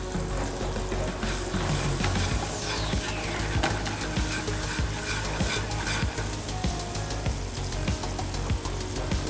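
Shrimp sizzling in olive oil in a pan, a steady loud crackle with occasional stirring scrapes and utensil clinks, no voices.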